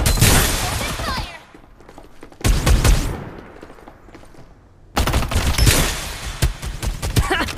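Bursts of automatic gunfire in the video game Farlight 84, loud rapid volleys in three separated bursts with quieter gaps, game voice lines faintly mixed in.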